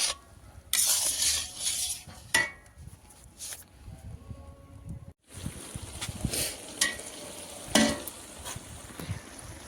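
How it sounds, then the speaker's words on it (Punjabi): A spoon scrapes and stirs a thickening carrot and milk mixture for gajar pak in a pan, with intermittent scraping, clinks and a low sizzle, broken by a brief pause midway. "ਹੁਣ ਆਪਾਂ ਇਹਨੂੰ ਹਲਾਉਂਦੇ ਰਹਿਣਾ ਤੇ ਕੋਈ ਥੱਲੇ ਨਾ ਲੱਗ ਜੇ"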